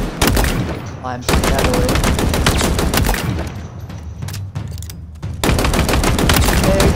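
Commando rifle in Halo Infinite firing long, loud, rapid automatic bursts with heavy recoil, a brief pause near the one-second mark and another around four to five seconds, with a player talking over the gunfire.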